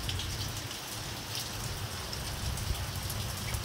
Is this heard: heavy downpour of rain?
yes